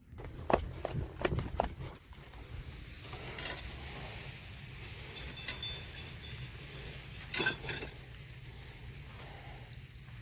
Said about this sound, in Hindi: ये दोनों चाबी यहीं रखी रह गई थी, उतार लेते हैं फटाफट